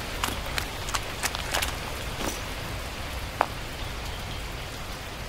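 Rain falls in the survival video game The Last Plague: Blight, a steady close hiss of rainfall with scattered brief taps and clicks and one sharp tick near the end, no talking.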